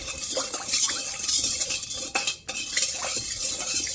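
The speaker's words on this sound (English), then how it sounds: "And we're just gonna dissolve that by stirring it." A spoon stirring a yeast mixture in a bowl to dissolve it, with repeated close scraping and clinking strokes in a steady rhythm and a brief pause partway through.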